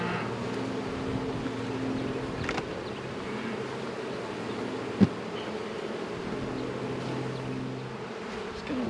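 Honeybees hum around a beehive in poor condition during a late-March hive inspection, a steady close drone with a brief sharp tap midway and no talking.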